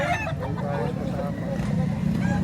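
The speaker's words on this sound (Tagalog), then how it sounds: "Laking manok ito" A large rooster at a crowded chicken market in Lipa, Batangas, gives a few short clucks and squawks close by, over a hubbub of people talking.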